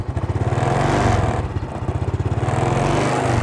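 A Honda Supra X 125 R motorcycle engine runs with a steady, rapid low putter and mechanical clatter close by, a brief dip midway before the chugging resumes.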